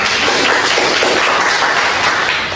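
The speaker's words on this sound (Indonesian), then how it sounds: "Selanjutnya, tepuk tangan dulu." A room of students claps together at a school talk on time management, a loud, dense, even wash of applause that fills the short span and tapers slightly at the end.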